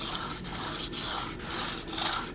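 A Kayuga Pilot blade is drawn across a sharpening stone in five even, rasping strokes, each a steady scrape with brief gaps between, close and fairly loud.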